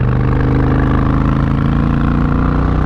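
Honda VTX 1300 motorcycle engine running at a steady loud throb, its low pulsing beat up close and unbroken, with no voices.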